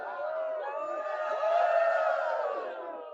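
A crowd cheers and whoops together, a dense swell of many voices that builds slightly toward the middle and then cuts off, heard at moderate distance.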